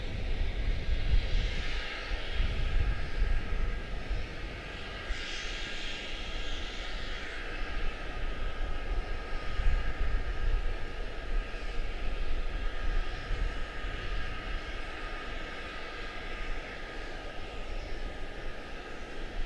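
Jet aircraft engines roaring on the runway at Charlotte-Douglas International airport, a steady distant rumble with broad hiss swelling slightly at times, continuing throughout without talk.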